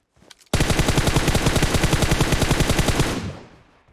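PUBG Mobile video game gunfire: one long loud burst of rapid automatic fire, evenly spaced shots rattling for about two and a half seconds before trailing off.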